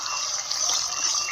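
Tupsi fish curry with tomato is poured from a cooking pot, giving a brief continuous liquid gush at steady, moderate loudness with no voices.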